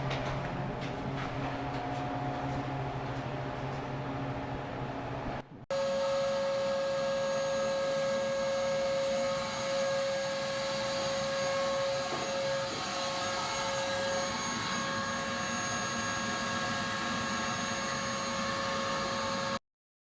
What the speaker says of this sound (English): last time you're gonna vacuum mouse shit out of here?